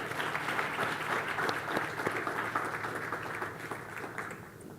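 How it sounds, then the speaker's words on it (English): Steady applause from a conference audience at a sustainability forum, a dense even patter of many hands that stays fairly distant and soft and thins slightly toward the end. "A round of applause,"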